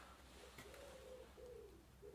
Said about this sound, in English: And there's an annoying pigeon outside.